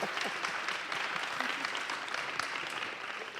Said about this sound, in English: give yourselves a great round of applause anyway